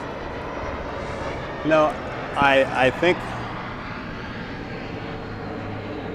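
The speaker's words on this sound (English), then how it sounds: "I wish I could be on that airplane." An airplane flies overhead during an outdoor interview, heard as a steady, distant engine drone throughout while someone speaks a few brief words over it.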